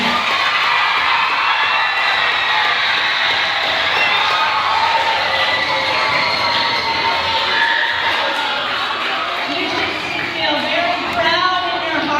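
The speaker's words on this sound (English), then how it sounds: "You can clap again." A crowd of children cheers, whoops and shouts loudly and steadily throughout at a school leadership day, with clapping likely mixed into the dense, continuous noise.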